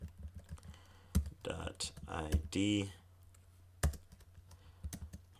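Quick bursts of clattering clicks from a computer keyboard being typed on, close and crisp, coming in short clusters between stretches of a person talking.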